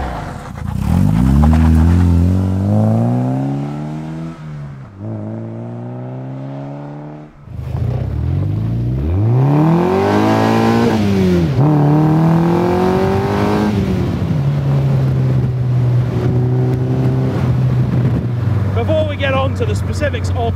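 Mazda MX5-based MK Indy RX-5 kit car driving on the road, engine loud and close as it revs up and shifts repeatedly, pitch sweeping up and dropping between gears before settling into a steady cruise.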